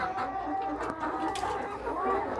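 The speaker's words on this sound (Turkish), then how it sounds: "tavuğumuz var burada" Chickens clucking in a poultry coop in a steady, busy background chorus, with a few higher calls poking through, fairly close and continuous.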